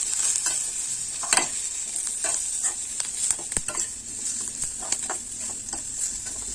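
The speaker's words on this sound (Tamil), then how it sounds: "நல்லா கிளறி விட்டுக்கலாம்." Potato masala fry being stirred in a hot pan, a steady high sizzle with repeated spatula scrapes and knocks against the metal, close and continuous, with no voices.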